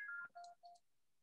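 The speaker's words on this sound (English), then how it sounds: "sorry, my phone is ringing." A phone gives off a short electronic ringtone: a few bright tonal beeps in quick succession, quiet and close, with no voices.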